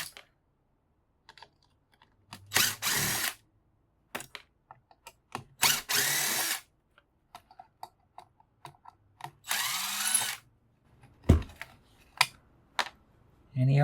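A power drill backing screws out of scrap equipment, several short whirring bursts at close range separated by pauses, mixed with clicks, taps and handling noises.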